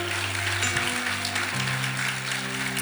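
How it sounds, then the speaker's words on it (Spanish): A church congregation claps during a Sunday service, giving a steady wash of applause over sustained held tones. "Aplauda a Jesús."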